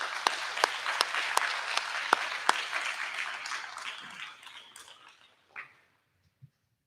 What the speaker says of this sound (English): How about a round of applause for your teachers?